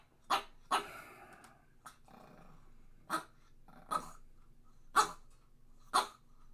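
A dog at home gives a series of short, moderately loud barks and huffs, roughly seven bursts spread irregularly over several seconds, with low growling and breathing rumbling underneath.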